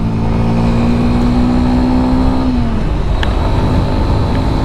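A Yamaha FZS V3 BS6 motorcycle accelerating in third gear: a loud, close engine drone mixed with wind rush, holding a steady pitch before it dips partway through.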